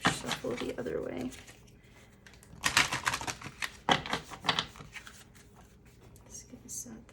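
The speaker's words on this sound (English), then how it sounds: "it's like way too big for me to shuffle the other way" Oversized deck of oracle cards being shuffled with papery riffles and slaps in bursts, loudest in the middle stretch, with soft rustling between and a quiet voice murmuring at the start.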